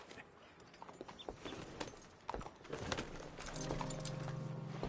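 A horse trots in a PS4 video game, its hooves clip-clopping in an irregular patter within a busy, dense soundscape that swells, with a steady low drone joining toward the end.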